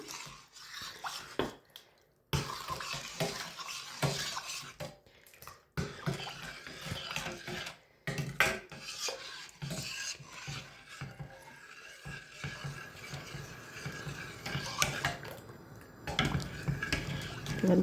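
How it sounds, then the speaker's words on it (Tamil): A spoon stirs coconut milk and sugar into purple yam porridge in a pot, making irregular scraping and clinking against the pot with short pauses. "அடுத்ததாக எடுத்து வச்ச சீனி வடிவாக கலந்து விடுவோம்."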